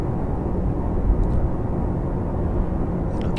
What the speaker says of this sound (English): I'll keep dialing down the main thrusters as the speed goes up